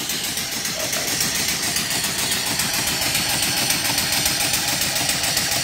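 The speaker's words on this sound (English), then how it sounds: "So the engine is running right now at about 1, 2 and a quarter, about 225 RPM." A steam engine fed by a boiler runs at about 225 RPM while driving an alternator, giving a steady, loud mechanical chugging with an even, rapid rhythmic pulse throughout and no talking.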